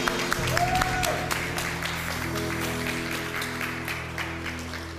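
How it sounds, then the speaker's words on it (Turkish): Audience applause greets dancers at a holiday entertainment show, a steady wash of clapping from the crowd that holds for several seconds at moderate level beneath a sustained musical tone. "Alkışlar!"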